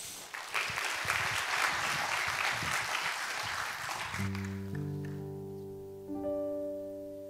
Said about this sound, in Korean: 우리 신지혜 집사님 나오실 때 우리 박수로 환영하실까요?